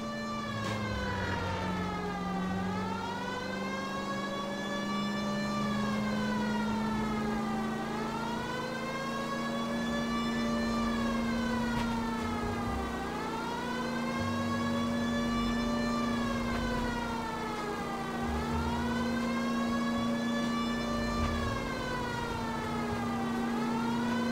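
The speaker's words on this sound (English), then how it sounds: "Didn't you hear the siren?" A police car siren in the video game L.A. Noire wails in a slow, repeating rise-and-fall cycle, loud and continuous over a low engine drone.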